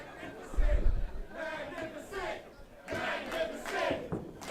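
A wrestling crowd at a first-round match yells and cheers for a wrestler in surging waves of shouting and chatter, with a commentator talking over the arena noise.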